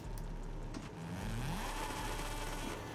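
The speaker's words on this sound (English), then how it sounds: "I'll rev the engine" Car engine revving in the Forza Horizon 5 racing game, played on a Turtle Beach direct drive wheel; a steady mid-pitched engine drone with a brief rising rev partway through, loud and continuous with no talk.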